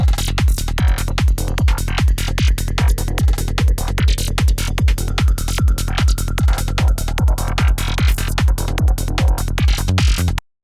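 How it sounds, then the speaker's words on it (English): A glassy, metallic FM-style synth patch made in Serum 2 plays as a fast, even stream of repeated plucked notes, loud and dry, running continuously for about ten seconds before stopping abruptly. "I'm going to go with this kind of FM-ish type sound we have here."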